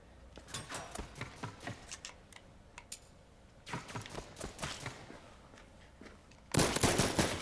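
Gunfire in the VR shooter Contractors: bursts of sharp rapid shots in irregular clusters, with a louder close volley at the end.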